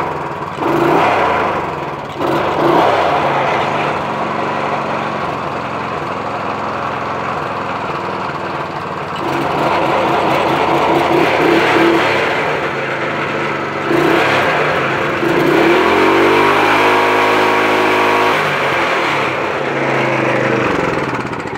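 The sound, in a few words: small engine starting cold and running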